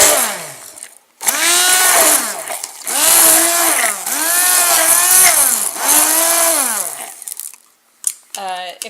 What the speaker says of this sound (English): And now I'm going to stick mix it.